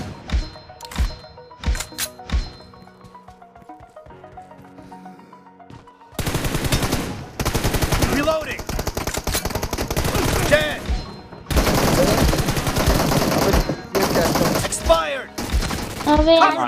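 Rapid bursts of gunfire in a mobile shooter video game, a few sparse shots at first, then dense sustained automatic fire, loud and continuous, over background game sounds.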